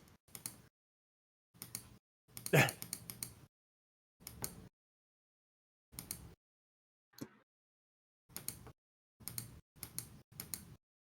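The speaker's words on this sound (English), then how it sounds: "I hear a lot of clicking going on" Short, quiet bursts of clicking and typing on a computer keyboard arrive in separate clusters with silent gaps between, one louder flurry near the start.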